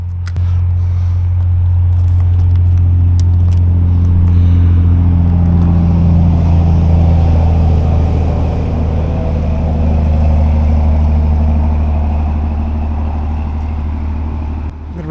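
Freeway traffic near a dam rumbles loudly and low, with a heavy vehicle swelling past and fading, continuous road drone throughout and no talking.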